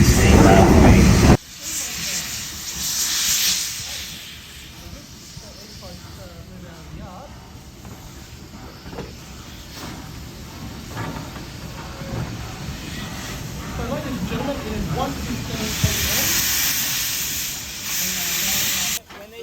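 A steam locomotive at Newport Workshops, opening with a loud hissing burst of escaping steam that then drops to a steady rumbling engine hum with faint clanks and low background murmur, before the hiss swells again near the end.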